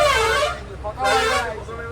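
A vehicle horn sounds in two bursts, each about half a second long. The car or bus is parked in a flooded Guwahati street, and the honks are loud and close with a low background rumble between them.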